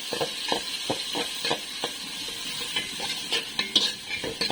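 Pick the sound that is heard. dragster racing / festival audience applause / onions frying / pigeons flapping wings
onions frying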